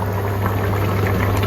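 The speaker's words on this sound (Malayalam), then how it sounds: "തിള വന്നിട്ടുണ്ട്." Kerala-style fish curry gravy bubbles at a rolling boil in a pot, a close, continuous burble of popping bubbles over a low steady hum, with no voices.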